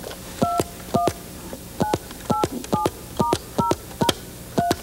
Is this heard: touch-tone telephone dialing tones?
yes